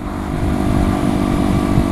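A 125 cc motorcycle on knobby off-road tyres rides along a road, its engine droning loud and close at a steady pace with tyre rumble underneath.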